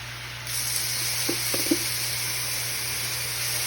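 Garlic sizzling in a pot with carrots and onions, a steady close frying hiss that swells as it goes in, with a few light stirring clicks.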